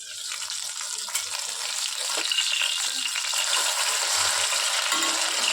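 Topse fish sizzling as it fries in a pan: a steady, bright crackle of hot oil runs throughout at close range, with a few faint clinks of utensils and no voices.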